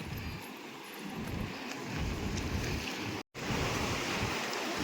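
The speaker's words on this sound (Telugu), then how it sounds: "ఎట్లా వస్తున్నాయి అలలు ఘోరంగా" Ocean surf roars continuously in a broad wash at Mumbai, with heavy waves surging and breaking in slow swells, close and reaching up onto the road.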